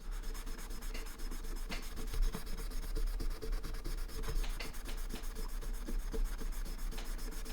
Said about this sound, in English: So we're going to take some steel wool to this.